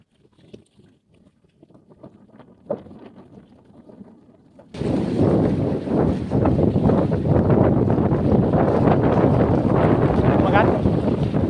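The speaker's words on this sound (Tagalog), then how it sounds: "Malakas ang hangin." Strong wind at sea buffets the microphone in a loud, continuous roar that abruptly swells midway and stays heavy to the end, following a quieter stretch with faint voices talking.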